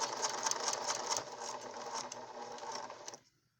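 A sewing machine runs a continuous forward seam on a fabric nose enclosure for a mask, a close, rapid mechanical whir and rattle that holds for about three seconds and then stops.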